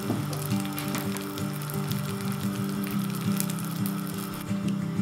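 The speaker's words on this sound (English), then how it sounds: "turn the heat up to high, and let this come to a boil." A steady bubbling sizzle of butter and brown sugar boiling in a pan over high heat, with continuous crackling pops close by and no talking.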